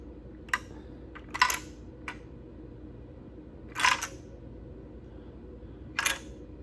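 Metal valve lifter buckets drop out of BMW M52 camshaft carriers during an E36 cylinder head removal, giving five or six sharp, close clicks and clinks spaced irregularly over a quiet background hum.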